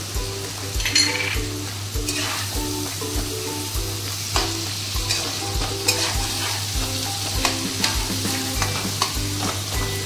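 A tomato fries in hot oil in a pan for a liver curry, with a constant sizzle and repeated scraping and clinking of a spoon stirring it close up.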